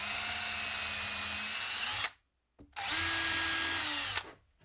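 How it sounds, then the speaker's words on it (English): A power drill pre-drills pilot holes in wood for a sawhorse support, running in two steady, loud bursts of about two seconds each, separated by a short pause. "Once again, do a little pre-drill."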